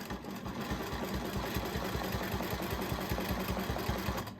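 A sewing machine stitching in the ditch on a hanging basket grid quilt runs steadily close by, a continuous rapid mechanical hum with a regular pulsing rhythm and no talk.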